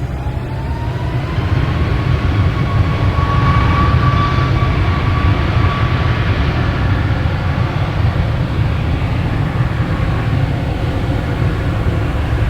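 A Cape Air propeller airplane at Boston Logan Airport produces a loud, continuous engine roar with a faint rising whine, heard from fairly close and without talk.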